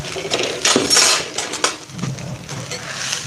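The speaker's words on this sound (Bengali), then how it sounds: "রাতে বেঁচে থাকা ভাতটা দেখুন রেখে দিয়েছি, এটা এর মধ্যে দিয়ে দেবো" Leftover cooked rice tipped into a pan for jeera rice, giving a continuous scraping, clattering rush of grains and metal across the whole stretch, with clinks of a utensil against the pan and no talk.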